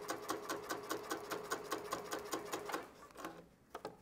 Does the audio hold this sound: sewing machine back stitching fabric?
yes